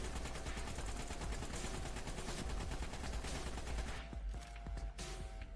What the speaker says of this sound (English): Let's see how much the assault rifle does.